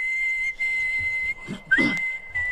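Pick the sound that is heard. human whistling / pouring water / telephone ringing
human whistling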